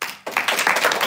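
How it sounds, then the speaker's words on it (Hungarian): An audience at a live talk show applauds for Judit, brisk clapping that starts suddenly after a short pause and stays dense and close to the end. "külön köszönet és taps Juditnak"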